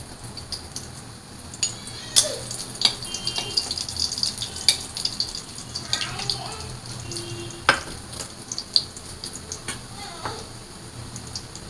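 Chopped garlic sizzles in a pan for fried rice with a soft frying hiss, broken by clinks and scrapes of a utensil stirring against the pan.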